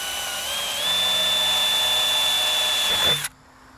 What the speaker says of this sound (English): I'm going to drill it for an 1/8 inch.